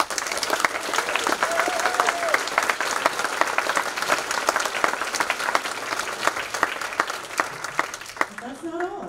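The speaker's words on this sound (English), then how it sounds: "A round of applause for all of these folks." A large crowd at Nancy Fest in the Billy Ireland Cartoon Library and Museum applauds continuously for several seconds, dense and steady, with some voices mixed in.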